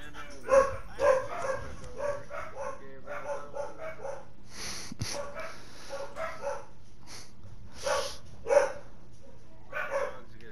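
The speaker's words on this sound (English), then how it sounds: "Dogs are barking." Dogs bark repeatedly at a house, a series of close, loud barks spaced across the scene with people talking in between.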